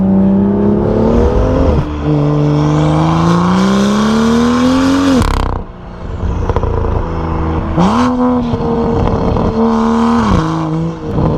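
A BMW M2 fitted with a full iPE exhaust revs hard and loud, close up, in two long ferocious bursts with a brief drop between them, no talking over it.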